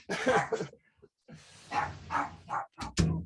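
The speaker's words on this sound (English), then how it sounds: "Sorry, dogs are going now." Dogs bark indoors at home, giving several sharp, close barks in an uneven run with short gaps between them.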